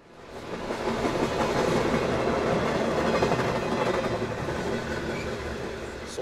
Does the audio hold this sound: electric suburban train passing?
yes